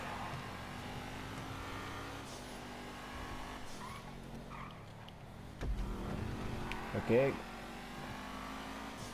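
A fast car engine in GTA V racing, a steady droning hum with rising revs and a brief tire squeal near the end, a voice speaking over it.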